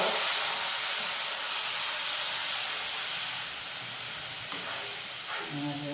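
Curry ingredients for jackfruit curry frying in a pan give a steady, loud sizzling hiss that fades slightly toward the end, with a brief clink and faint background tones.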